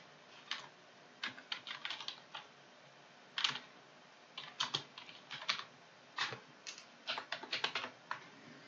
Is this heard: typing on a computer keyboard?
yes